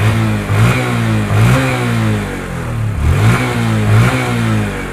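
Stock Honda Wave 125i motorcycle from 2021, engine revved repeatedly in loud, close blips that rise and fall over an idle, about four throttle pulses in steady rhythm, with no voices.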